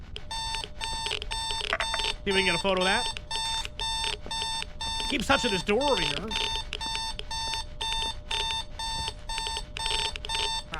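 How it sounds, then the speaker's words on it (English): An alarm clock in the ghost-hunting game The Other Side beeps in a fast, unbroken rhythmic pattern, loud and continuous, while someone talks over it. "Darn alarm clock sound."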